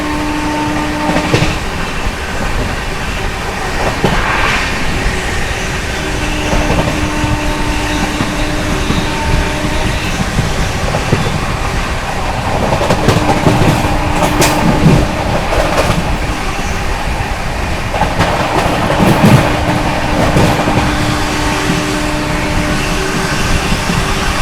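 Goa Sampark Kranti Express running through Hindon City station without stopping, a steady loud rumble of wagons with rhythmic clickety-clack of wheels over rail joints and occasional faint wheel squeal throughout.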